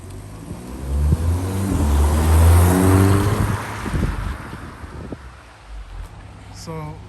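VW MK6 GTI on its factory exhaust accelerates past as a muted rising drone that swells to a peak around the middle and fades away, with wind noise and a short bit of talk near the end.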